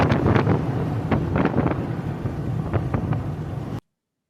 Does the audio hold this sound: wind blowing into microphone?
yes